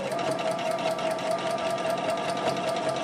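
Sewing machine stitching ribbon onto a print skirt through three layers of fabric, a close, steady rapid whirring hum that runs continuously without pause.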